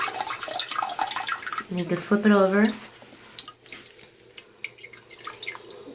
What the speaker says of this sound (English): You can spray and hover.